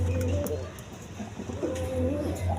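Pigeons cooing at a farm, low repeated throaty coos overlapping in a continuous murmur, close and fairly loud, with faint bird chirps above.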